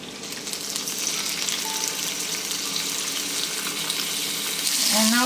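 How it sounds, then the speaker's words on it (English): Shrimp hitting a hot oiled pan for crispy chow mein, a loud, dense, continuous sizzle that swells slightly toward the end, close up and without speech. "Put some oil, let it all evenly coated. Put the shrimp in first."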